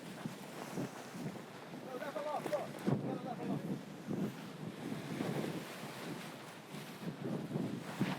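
Gusty outdoor wind roars and buffets the microphone during a pole tent setup, a steady rumbling wash with uneven surges throughout, with faint voices mixed in.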